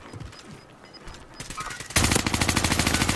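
Automatic gunfire in the video game Call of Duty Warzone on the Caldera map, a sudden loud rapid burst of shots that follows quieter game noise.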